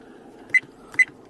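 Two short, clean electronic beeps about half a second apart from the button of a VIOFO A129 Duo dash camera, close and moderately loud over a low background hum.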